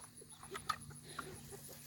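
Delaware chickens cluck softly and sporadically nearby, a few short clucks and chirps over a quiet, steady background hum.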